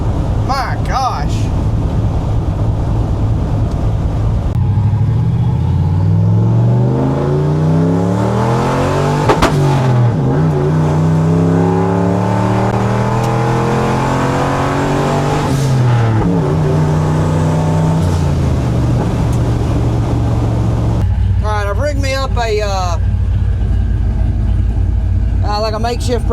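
A turbocharged 331 engine in a 1976 Ford F250 revs up and down repeatedly, its pitch sweeping high and falling back in loud, close rising and falling waves, with a voice speaking over part of it.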